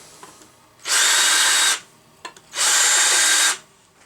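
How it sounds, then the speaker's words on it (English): Two bursts from a countersink bit in a power drill deburring the edges of cross-drilled holes in a Volvo brake caliper, each burst steady and close for just under a second, separated by a short pause with faint handling clicks. "I can use the countersink more easily. Just to clean up the burr on the edge there."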